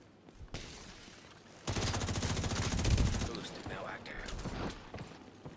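Rapid shotgun blasts from a firefight in The Division 2 video game, a dense burst of loud repeated shots lasting over a second, then scattered gunfire and game effects, with voices talking around the shooting.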